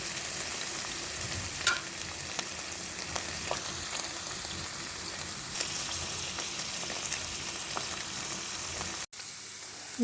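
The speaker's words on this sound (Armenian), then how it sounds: "փակեմ կափարիչը, թող տապակվի" Food frying in a covered pan on the stove gives a steady, even sizzle with faint crackles and occasional small pops, heard alone without any voices.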